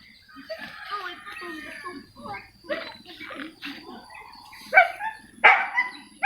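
A guard dog on a bitter melon farm barks in short sharp bursts near the end, loud and close, after a stretch of people talking.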